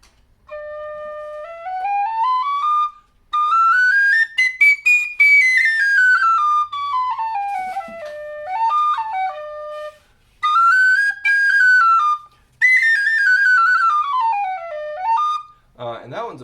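A roughly $7 off-the-shelf stock tin whistle plays a melody of clear, bright sustained notes in several phrases, with short gaps for breath and a brief noisy sound at the end.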